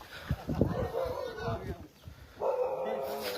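A dog at a rural home barks and yips several times in short bursts close by, mixed in with people talking.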